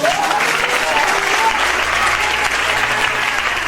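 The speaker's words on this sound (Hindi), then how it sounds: "जोरदार ताली बजा दो।" Congregation at a Thursday healing and deliverance church meeting breaking into loud, sustained applause, a steady dense roar of clapping from a large crowd.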